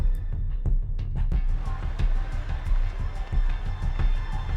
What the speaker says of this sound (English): Crowd noises. I love crowd noises.